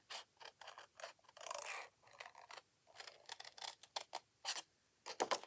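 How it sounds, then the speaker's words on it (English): Paper being fussy cut by hand with scissors for a snail mail card project, giving a series of short crisp snips in irregular bursts, close and clear, with no talking. "Okay, so I'm just cutting that out."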